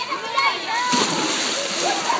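Splashing in a swimming pool as a child jumps in, water splattering and sloshing close by while children and adults chatter and call out.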